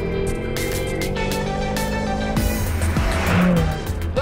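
A BMW M6's twin-turbocharged 4.4-litre V8 with a 7-speed transmission revs hard under acceleration in Sport Plus mode on an open road, a loud sustained engine roar with rising pitch and a brief tire squeal near the end.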